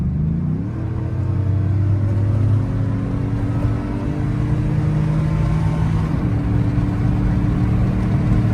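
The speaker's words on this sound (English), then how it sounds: "Do a little second gear pull here." A cammed Chevrolet Silverado with a 4.8 engine pulls hard in second gear through a suburban town street, its loud, lumpy rumble rising steadily in pitch, easing briefly around the shift, then climbing again, close and continuous without talk.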